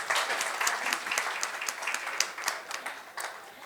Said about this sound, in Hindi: भाभी का जो गलतफहमी है उसे दूर करने के लिए हम जोरदार तालियां बजवाते हैं।